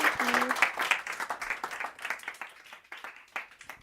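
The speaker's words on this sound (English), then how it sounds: "Let's have one more round of applause." Audience applause at an evening talk event, a lively burst of clapping that gradually thins and fades, with a voice briefly heard at the start.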